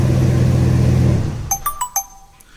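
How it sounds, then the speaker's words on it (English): A Ram pickup's idling engine hums steadily, then dies away about a second in, followed by a quick series of short electronic chirps. "We're going to shut the engine off."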